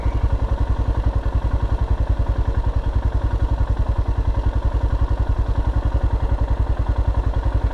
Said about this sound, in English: The familiar sound of a Himalayan idling at a red light.